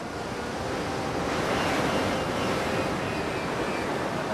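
Ocean surf breaks on a beach along the Coromandel Coast, a loud, steady roar of waves with a slight swell in the middle. Wind rushes across the microphone and no one speaks.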